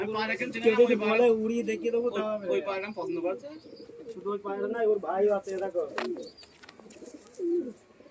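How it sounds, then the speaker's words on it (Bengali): Andra pigeons coo softly in short, low phrases near a loft, largely under someone talking close by, with one clearer coo near the end. "এই যে পায়রাটা দেখুন"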